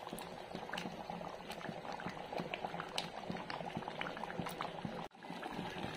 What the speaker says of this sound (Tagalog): So, hayaan muna natin yan ng kumulo.